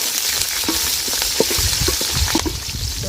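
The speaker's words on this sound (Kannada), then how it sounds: "ಈಗ ಹಸಿಮೆಣ್ಸಿನ್ಕಾಯಿ ಹಾಕ್ಬೇಕು. ಫಸ್ಟು ಖಾರ ಹೊಡಿತದೆ, ಅದು ಒಂಚೂರು ಎಣ್ಣೆಲಿ ಫ್ರೈ ಆಗಬೇಕು." Green chillies fry in hot oil with a close, loud crackling sizzle, full of popping spits and bursts over a constant hiss.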